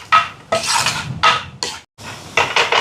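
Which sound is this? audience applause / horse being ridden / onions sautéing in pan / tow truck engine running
onions sautéing in pan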